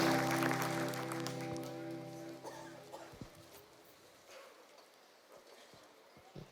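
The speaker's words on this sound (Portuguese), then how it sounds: "salva de palmas pro Senhor Jesus" Congregation applause in a Brazilian Portuguese church service, clapping for Jesus mixed with a sustained musical chord that fades out, then thinning to a few scattered claps and faint room noise.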